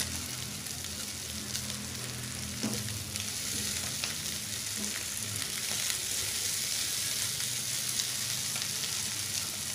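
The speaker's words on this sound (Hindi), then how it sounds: "मैं फ्लेम अब थोड़ा हाई की हूँ ताकि इसको हाई फ्लेम में बस दो मिनट तक फ्राई करूँ" Boiled potatoes fry in oil over a high flame for a dry South Indian style dish, a continuous close sizzle with occasional stirring scrapes.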